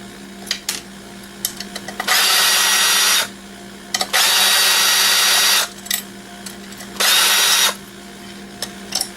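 Power drill backing screws out of an old alarm system's aluminum housing, three loud, steady whirring runs of about two seconds each, close up, with small clicks and handling noises between.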